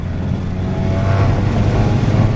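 Volkswagen GTI MK7 accelerating hard, a steady, loud engine drone that builds slightly as it pulls away, with no voices over it.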